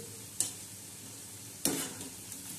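Onion bhaji frying in hot oil, a quiet steady sizzle with two sharper bursts of spattering and clinking as the fritters are stirred.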